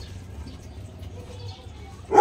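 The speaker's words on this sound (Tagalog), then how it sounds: "Ingay talaga ng aso namin." A pet dog barks and yips at home, a short loud outburst at the end after a stretch of faint low rumbling background.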